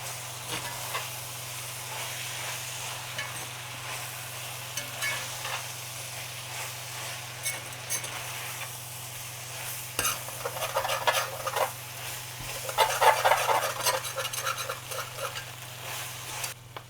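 Tomatoes and mint sauté for chicken biryani, sizzling steadily as a spoon scrapes and clinks against the pot, with louder stirring bursts near the end over a low hum.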